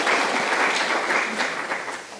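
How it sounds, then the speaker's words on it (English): Audience clapping at a December 2024 artist talk, a dense, steady burst of applause close by that carries through and tapers slightly at the end. "Go ahead, you want to clap? Go ahead."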